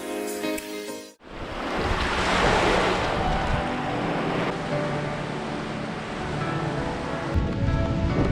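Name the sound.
cold winter wind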